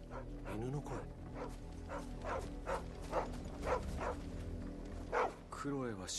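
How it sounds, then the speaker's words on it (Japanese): A dog barks repeatedly in Final Fantasy XVI, a series of evenly spaced, fairly close barks over a quiet village ambience. "犬の声。"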